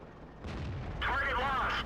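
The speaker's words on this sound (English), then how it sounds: "Target acquired. Ready to fire." A tank cannon firing in the World of Tanks video game on the Malinovka map, a loud booming blast with a long rumbling tail over a steady game soundscape.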